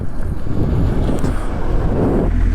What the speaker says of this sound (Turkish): Allah kahretsin rüzgar bu tarafa atıyor.